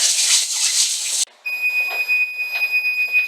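An oven timer buzzer goes off to signal that biscuits are done, a steady, piercing electronic tone that cuts in right after a burst of hissing kitchen noise and holds to the end.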